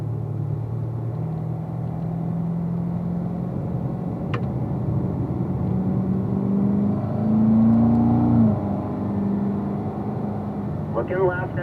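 A sports car engine hums steadily in 4th gear and then climbs in pitch as it accelerates, with a voice talking over the engine noise.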